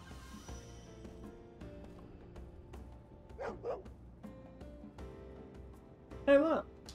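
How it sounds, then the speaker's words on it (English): A dog barks in the video game Lost Odyssey, a few quiet barks followed by one louder, sharper bark near the end, set against faint game music. "This must be the dog that kid in front of the palace was looking for"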